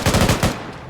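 A single short burst of automatic gunfire cracks out during a training session, about five rapid, loud, close shots that stop abruptly and fade into a brief tail.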